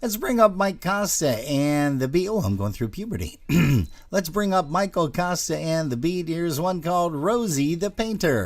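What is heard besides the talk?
No distinct noise like a dog, phone or traffic.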